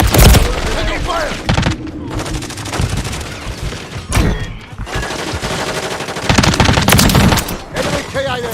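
Heavy gunfire in a first-person shooter video game, loud rapid automatic bursts and single shots crackling almost continuously, with brief lulls and thumping impacts, close and intense.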